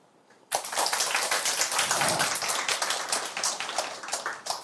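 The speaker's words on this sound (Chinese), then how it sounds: "鼓掌" A lecture audience bursts into applause after a short quiet lead-in, a dense crowd of clapping hands that stays loud and even throughout, with no speech over it.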